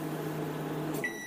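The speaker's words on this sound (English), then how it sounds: "Last 5 seconds of the second round of cooking." A Samsung microwave oven heating broccoli, its steady low electrical hum filling the space until a high beep sounds near the end.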